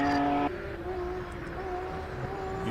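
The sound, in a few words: hillclimb race car anti-lag popping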